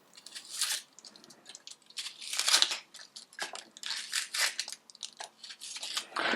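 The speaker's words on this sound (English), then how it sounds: "We're going to roughly chop all the ingredients" A knife roughly chops an onion on a cutting board for katsu sauce, making crisp, irregular crunching cuts in quick bursts, close and clear with no voices.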